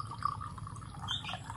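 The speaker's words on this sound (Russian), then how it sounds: "Наливаю водичку в свою макашницу." Water is poured from a tap or jug into a moka pot in a home kitchen, a soft, quiet trickle with light dripping and splashing, close by and heard alone.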